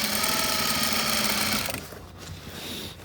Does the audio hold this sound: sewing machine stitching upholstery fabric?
yes